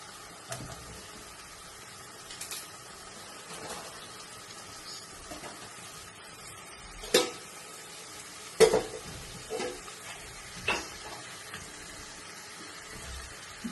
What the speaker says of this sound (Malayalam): ചിക്കനെല്ലാം നമുക്ക് ഇതിലേക്ക് വറുത്ത് വെച്ചെടുക്കാം.